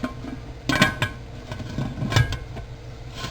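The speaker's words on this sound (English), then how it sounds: "I'm going to put the lid on" A metal lid is fitted onto a pressure canner, with a few close clanks and scraping metallic knocks spread irregularly over a few seconds in a quiet room.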